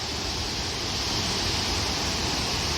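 A loud waterfall at Netarhat in Jharkhand roars as a steady, dense rush of water, close and constant with no pauses or other sounds.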